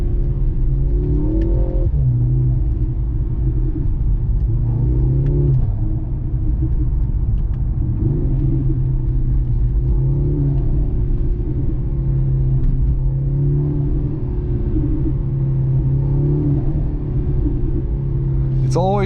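A 2023 Mercedes C43 AMG with a four-cylinder engine drives at night, its steady low engine drone and road rumble heard from inside the cabin with little change in pitch, while a person talks over it.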